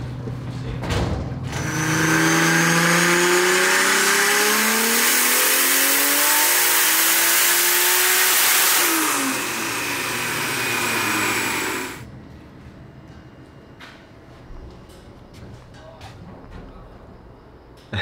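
A BMW E92 fitted with an FD rotary engine on 20 psi boost revs loud and high for several seconds, the pitch climbing and wavering, then cuts off abruptly to quieter idling and background noise.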